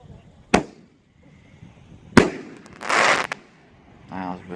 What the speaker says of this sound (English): Shell number 4 is going to go off by itself.